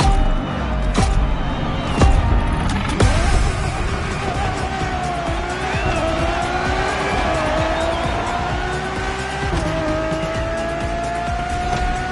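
A Ferrari Enzo supercar races in The Crew Motorfest, its engine roaring loud and close with rising and falling revs, gear changes and brief tire squeals as it drives on steadily.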